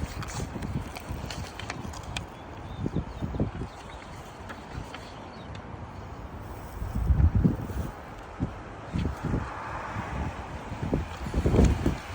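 Outdoor wind buffets the microphone in uneven rumbling gusts, swelling and easing throughout with no clear speech.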